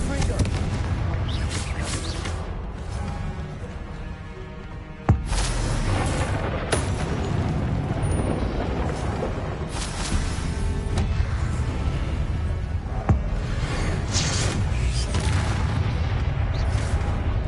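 Confringo blasting-spell explosions in a Hogwarts video game, a dense run of booming blasts and sharp cracks layered over constant loud background noise, with a few sudden hits standing out.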